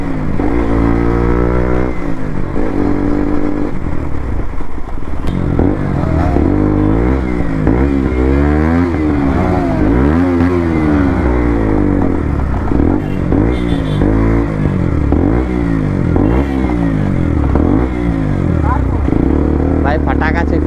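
Three motorcycles on a group ride, engines droning and revving together close by with rising and falling pitch, wind rumble and someone talking over the noise.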